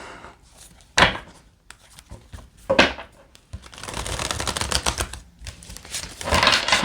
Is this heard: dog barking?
no